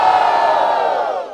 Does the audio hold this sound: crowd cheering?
yes